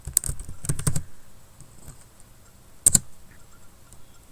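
Someone types a command on a computer keyboard: a quick burst of crisp key clicks, a short pause, then another pair of taps, close and fairly quiet, with no talking.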